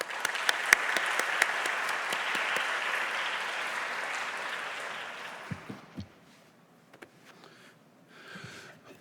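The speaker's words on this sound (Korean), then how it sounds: "박수로 따뜻하게 환영하도록" A church congregation at a Sunday youth worship service gives warm applause welcoming the pastor, a dense clapping that fades out after about six seconds, followed by a few scattered claps and faint shuffling.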